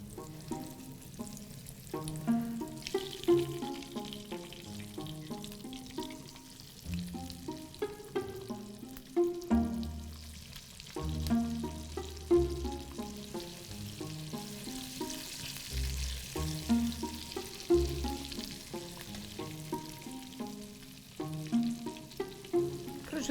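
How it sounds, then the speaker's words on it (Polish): Steady crackling sizzle of meat frying in hot pork lard, continuous and close, with occasional clinks and stirring noises throughout and no speech. "A do obsmażenia najlepiej nada się wieprzowy smalec."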